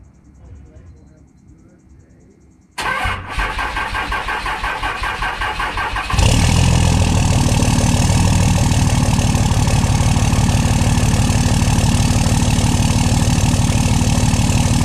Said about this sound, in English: I'll do a little cold start for you guys